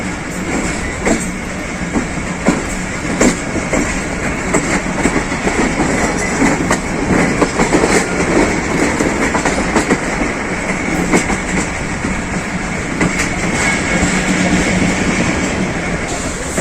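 The Pakistan Express rolls along the rails toward Faisalabad, heard from on board as a loud, steady rumble with regular clickety-clack of wheels over rail joints and no talk.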